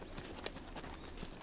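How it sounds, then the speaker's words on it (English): Horses stir in a corral at sunrise on a frontier-style ranch near Tombstone, with faint, sparse hoof clops and shuffling against a quiet open-air background, distant and low in level. "Horses quietly come to life in the corral"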